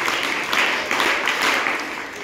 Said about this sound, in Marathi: एकदा आपण आदित्यसाठी टाळ्या वाजवून